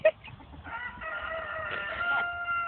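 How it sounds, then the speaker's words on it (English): A chicken clucks and crows nearby, a close, strained rising call that wavers over faint outdoor background noise, with no talking. "It's a chicken, not a dog."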